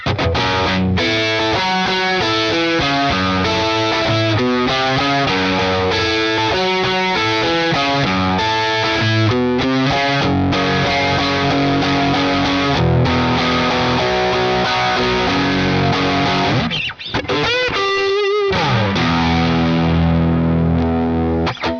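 A gritty, distorted electric guitar through an EHX Germanium overdrive pedal plays loud chords and riffs continuously, with a brief pause and scrape before resuming harsh and buzzy on the bridge pickup.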